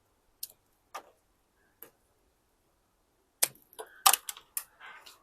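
Pruning shears snip juniper bonsai branches in a few sharp, separate clicks, then a quicker cluster of louder cuts with rustling foliage toward the end, close by and with no talking.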